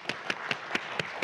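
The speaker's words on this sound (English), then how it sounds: "So please give them a huge round of applause." Hand claps at a climate tech startup panel event in Tokyo: five sharp, evenly spaced claps in quick succession, moderately loud, with no talking.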